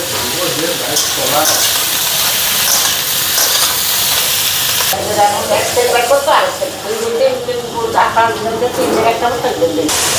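Mixed vegetables and peas cook in a pot on a home stove in a steady hiss and sizzle with occasional stirring scrapes, close and fairly loud, while a person talks over it.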